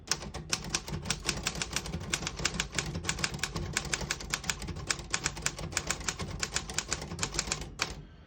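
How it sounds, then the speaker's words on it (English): A 1952 Royal KMM manual typewriter clacks away in a fast, steady rhythm of sharp key strikes, close up, ending with a brief pause. "I'll type a sentence on the next line."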